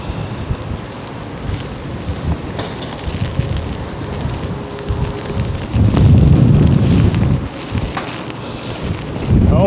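Storm Bert's wind and rain in Blackpool: heavy wind buffets the microphone in a rough, continuous roar that swells louder toward the end, with no voices.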